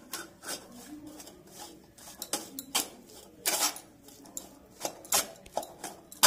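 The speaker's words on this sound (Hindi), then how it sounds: "और 1/1 चम्मच कॉर्नफ्लोर डाल रहे हैं और हम सभी को अच्छी तरह से मिक्स कर देंगे।" Corn kernels being mixed with refined flour and cornflour in a bowl for restaurant-style chilli corn, giving scattered scraping and clinking rubs of spoon against bowl at close range, some sharper bursts, no talking.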